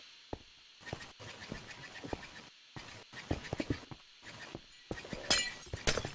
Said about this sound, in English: God, I just heard glass break.